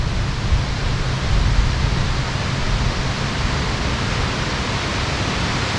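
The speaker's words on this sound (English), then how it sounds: "I think it's the breeze more than anything." A chilly breeze blows steadily across a campsite, a constant loud broadband rush with no breaks or gusts standing out, and no voices.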